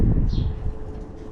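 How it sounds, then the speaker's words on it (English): Wind buffets the microphone in a steady low rumble, with a brief faint chirp partway through. "it's windy"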